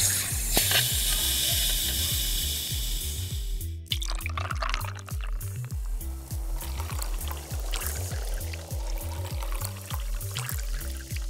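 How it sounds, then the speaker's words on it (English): An instaFizz bottle carbonates water from a fizz cartridge, giving a loud hiss and gushing, bubbling rush that carries over a steady rhythmic beat of background music, with no speech. "Simply fill the bottle, insert the cartridge, and twist the fizz."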